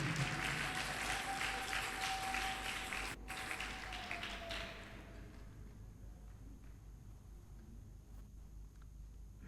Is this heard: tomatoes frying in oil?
no